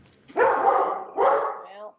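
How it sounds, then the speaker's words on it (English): A Catahoula dog barks twice in quick succession, fairly close and loud, during a Historic District Commission meeting with people talking nearby. "What kind of dog is it"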